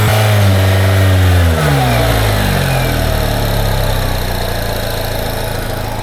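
Engine of a 2003 Honda hunting at high idle after an idle air control motor rewire, loud and close: revs sag from a higher pitch and settle into a steady, droning idle with no one speaking.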